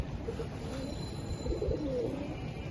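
A female homing pigeon coos softly a few times, low throaty calls rising over a faint hum of background noise nearby.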